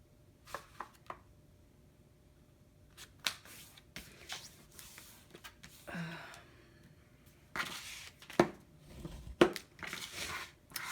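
A paper card base is folded in half for a papercraft project, heard as sparse close rustles, creases and light taps spread across a quiet background, with a denser burst of handling near the end.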